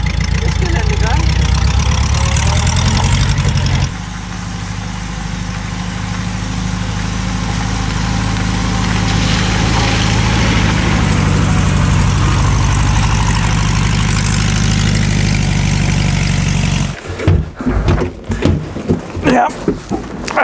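1943 Volkswagen Typ 87 Kommandeurswagen, a four-wheel-drive Beetle, driving in off-road gear in the Bavarian Forest, its engine a steady low drone heard from inside the car, with people talking over it and rougher, bumpy knocks toward the end.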